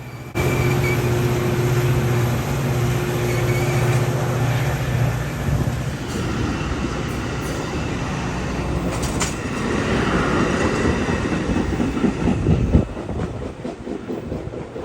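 A commuter train pulls out of Downers Grove station on an August day, heard close and loud as a steady rumble builds into rhythmic wheel clatter and rolling rail noise, with a brief engine hum at the start.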